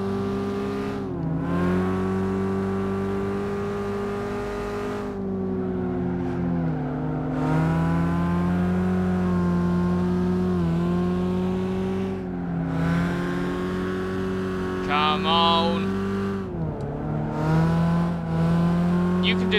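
Racing car engines in Gran Turismo 5 hold a loud, steady drone that climbs in pitch through each gear, with short drops at the shifts and a faint tire squeal, while a voice talks over it.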